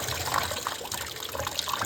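Clean water splashes and gurgles as it is poured into an old car battery, a close, continuous trickling fill with no talk.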